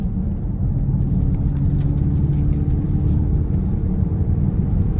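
A steady, loud simulated engine hum from a 2024 Dodge Charger electric car with over 450 hp drones continuously with a low rumbling tone and no talking.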